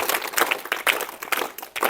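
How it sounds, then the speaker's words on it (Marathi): Loud, sustained clapping from a crowd of children and adults honouring students at a village primary school sports prize ceremony, with dense irregular claps rising and falling throughout. "लहान गटातून सर्वांनी आता जोरदार टाळ्या वाजवायत आहेत"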